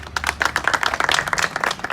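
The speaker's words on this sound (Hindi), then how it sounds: "एक ताली बजा दो जो इनके लिए" An audience claps steadily for a young local party leader at a political gathering, a dense, even patter of many hands with no talk over it.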